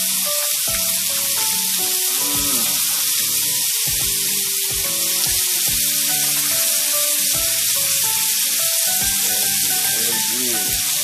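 Bacon frying in a pan for a breakfast bagel sandwich, a steady loud sizzle and crackle filling the whole clip, with clinks and scraping of utensils cutting in at intervals and no talking.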